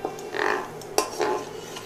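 Fried peanuts scooped from hot oil with a metal utensil, a short scraping stir with a sharp clink near the middle and a light sizzle under it, close and clear.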